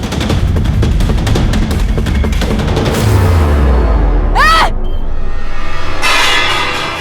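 Rapid bursts of gunfire crackle in quick succession, followed by a deep descending boom and a ringing metallic whine, loud and close.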